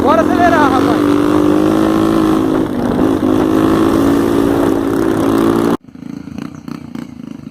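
Honda Bros motorcycle engine on a dirt trail, a loud, close, rough revving drone with pitch rising and falling as the throttle opens, then abruptly dropping away to a faint idle and background noise.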